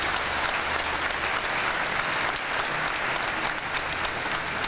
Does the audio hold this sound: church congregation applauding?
yes